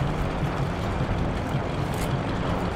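A tank engine idling in the Heroes and Generals video game, a steady, low, rumbling drone that stays at an even level throughout with no talk over it.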